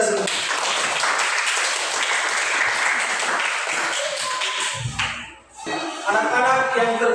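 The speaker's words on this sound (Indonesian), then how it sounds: "Tepuk tangan untuk kita semua" Children in a classroom clap together in a lively burst of applause that fades out, followed by some voices and classroom noise close by.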